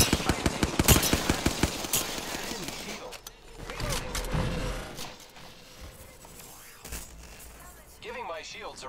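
Rapid gunfire from an Apex Legends match: a tight string of loud, close automatic shots in the opening seconds, then scattered bursts and mechanical game noise, with a voice speaking over parts of it.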